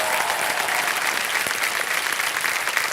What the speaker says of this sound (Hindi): एक बार जोरदार तालियां बज जाए इनके लिए